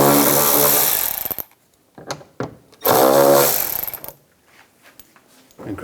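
Screws are driven out of the inner fender liner of a 2015-2020 Cadillac Escalade with a 10mm socket: two loud, close whirring bursts, each about a second long, separated by short clicks and clatter.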